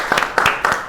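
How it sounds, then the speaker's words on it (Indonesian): A classroom of students clapping for a classmate, a short quick burst of a few claps, close and moderately loud. "Oke, beri tepuk tangan untuk Vicky."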